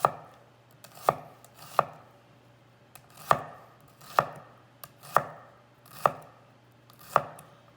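A kitchen knife dices vegetables on a cutting board for homemade marinara sauce, each chop a crisp, close knock repeating at a steady, unhurried pace, with no talk over it.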